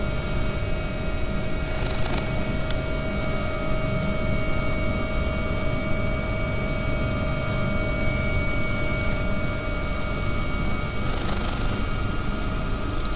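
An AW139 helicopter in flight within a flight simulator game, a steady, droning engine and rotor hum with constant tonal whine, unchanging in level throughout and no voices.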